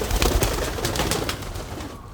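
Pigeons cooing inside an aviary, soft repeated low coos close by, with fluttery rustling and no talk.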